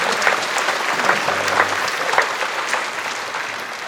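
A church congregation breaks into applause during a Sunday sermon, a dense, fairly close burst of many hands clapping that holds steady and then gently thins toward the end.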